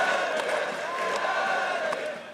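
A large arena crowd at the 2015 EU LCS Summer Grand Final in League of Legends, Fnatic against Origen, roars and cheers in a steady, loud wash of noise that fades slightly at the end.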